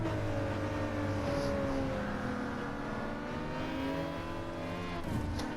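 A race car at the Autopolis circuit in a racing video game accelerates hard through the gears, a loud close engine whine climbing and shifting steadily with a brief change near the end.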